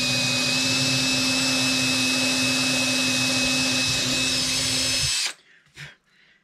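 A power drill whines steadily as it bores through the bridge plate of a 1970s Martin D-28 acoustic guitar, loud and close for about five seconds before stopping abruptly, followed by faint handling noises.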